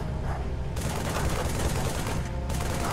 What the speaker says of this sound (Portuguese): Os caras atirando em mim, velho.